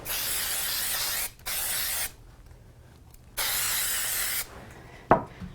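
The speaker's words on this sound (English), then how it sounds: "So I'm going to just use a bit of spray glue on it." Three loud, steady hisses from a can of spray glue, each about a second long with short pauses between, followed by a brief knock.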